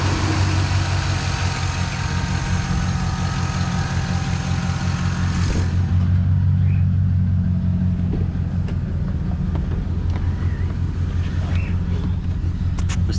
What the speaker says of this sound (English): look at that rough idle right there